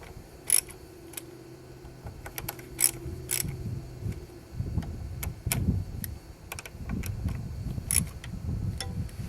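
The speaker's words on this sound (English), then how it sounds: "Now we're just going to snug these up very evenly." Bolts on the injection pump of a VW Jetta TDI are snugged up with a ratchet, giving sharp metallic clicks and taps scattered at irregular intervals, close and fairly quiet, with clunks and handling noise filling the second half.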